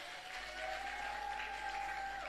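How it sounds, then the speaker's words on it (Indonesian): Steady, dense applause from a religious gathering for the MC, a soft, even wash of many hands clapping at moderate distance, faint and continuous throughout with a faint tonal hum beneath. "Tepuk tangan untuk MC-nya."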